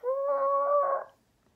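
A voice imitates car tires squealing as a car takes a corner too fast, giving one sustained, steady, high-pitched wail that drops away after about a second, close and alone.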